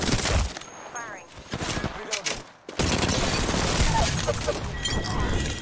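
Gunfire in the Apex Legends battle royale game, dense bursts of rapid automatic fire that break off briefly and then resume in loud sustained volleys, with a player talking over the shooting.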